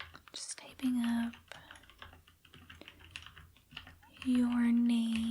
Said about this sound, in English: Just typing up